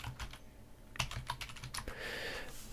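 Quick bursts of clicking keystrokes on a computer keyboard as search terms are typed, close and fairly quiet, ending in a soft steady hiss; no talking.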